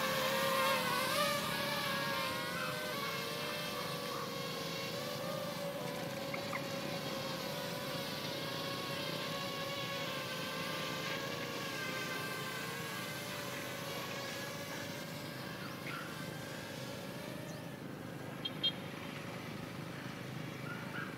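Small DJI Ryze Tello drone flying outdoors in wind with its propeller guard removed, giving a steady, faint, high buzzing whine with slightly wavering pitch throughout.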